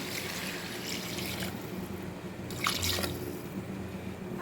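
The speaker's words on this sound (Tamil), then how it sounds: "தண்ணி சேர்த்துக்கலாம்" Water is poured into a pan of Tamil-style mutton marrow bone curry, giving a soft trickling, dripping pour with a brief louder splash near the end, heard alone and fairly quiet.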